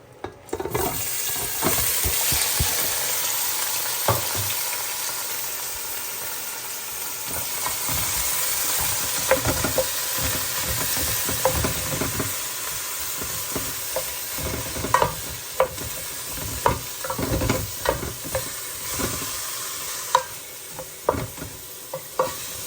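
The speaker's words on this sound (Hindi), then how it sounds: "थोड़ी देर हम जो है वो इसी घी के अंदर फ्राई करेंगे" Carrots frying in hot ghee give a steady broadband sizzle for the whole stretch, with frequent sharp scrapes and clicks of a spoon stirring against the pan, close up and with no voices.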